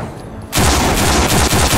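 Sudden dense burst of gunfire in the zombie shooter No More Room in Hell, loud, close and continuous after a quiet half second, with rapid overlapping shots.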